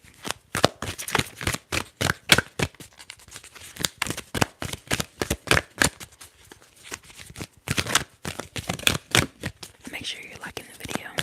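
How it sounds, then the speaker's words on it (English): Tarot and oracle cards are shuffled in a close ASMR session, crisp rapid riffles and snaps repeating in quick bursts with short pauses between. "Let's shuffling in on one more card from the wisdom deck."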